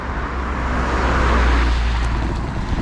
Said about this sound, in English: You see a car going around it right now.